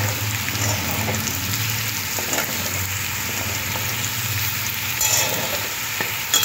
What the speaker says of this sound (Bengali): এবার আস্তে আস্তে ভালো করে মিশিয়ে নেব